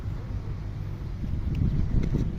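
Gusty wind rumbles against the microphone and grows stronger toward the end, a continuous low roar with no voices.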